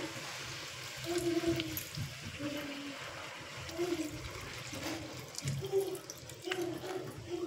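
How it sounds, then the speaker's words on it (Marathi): Tamarind water poured into a pan of fish curry masala gives a steady liquid splash and sizzle, with soft bubbling swells throughout. "आता आपण त्यात चिंचेचं पाणी टाकूया"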